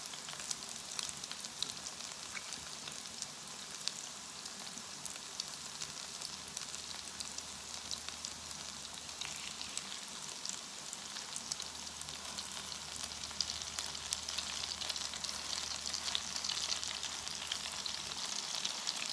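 Broccoli latkes fry in a pan of oil with a steady, soft, crackling sizzle that continues evenly throughout, with no talking.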